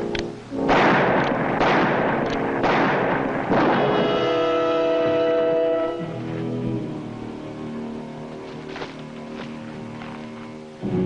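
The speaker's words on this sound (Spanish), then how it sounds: "¿Dónde hacen esos disparos?" Gunfire in a Bonanza western episode: several loud, sharp reports crack in quick succession over the first few seconds. A sustained tonal musical passage follows and carries on to the end, and no one speaks.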